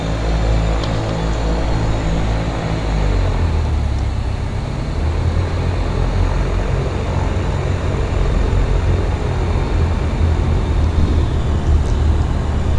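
Continuous drone of a Cessna engine in a home cockpit flight simulator, loud and steady, with the low rumble shifting a few seconds in as the engine note changes.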